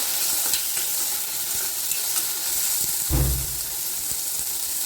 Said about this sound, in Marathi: त्यानंतर लसूण पण टाकून द्यायचं. हलवून घ्यायचं